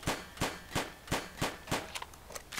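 Seven or eight sharp, evenly spaced gunshots ring out in 7 Days to Die, each a crisp burst at roughly a third of a second apart, with the final shots a little softer.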